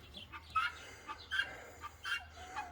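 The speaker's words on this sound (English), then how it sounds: "See the chickens all over there?" Chickens cluck in short, scattered bursts around a barn outside a gate, several birds calling at a moderate distance over a low steady background rumble, with no talking.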